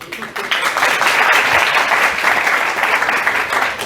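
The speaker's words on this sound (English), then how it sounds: "a round of applause for them, please" An audience claps together in steady, full applause for a few seconds, a dense crackle of many hands at moderate distance.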